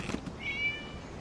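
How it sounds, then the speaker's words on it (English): A cat meows once in a video game scene from True Tales of Violet Garden Act 2, a single clear, near mew rising and falling over quiet ambient background, with no talk. "It was just a cat."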